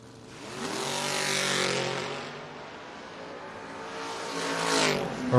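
Drag racing Camaro and Firebird at a footbrake bracket event roar down the strip, a loud sustained engine howl rising and fading, with a second surge of revving near the end.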